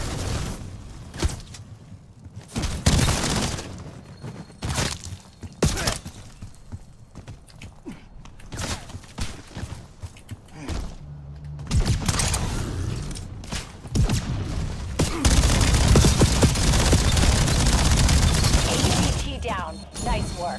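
Video game gunfire in a looter-shooter endgame mission, with scattered bursts and impacts under a voice that give way to a loud, dense sustained barrage near the end.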